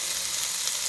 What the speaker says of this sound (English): you can hear that nice sizzling and the beautiful colors